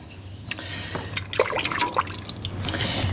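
Water trickles and splashes as a lighted LUND truck visor part from an original Squarebody ranch truck is rinsed, with intermittent drips and sloshing over a steady low hum, close and moderately loud, no talking.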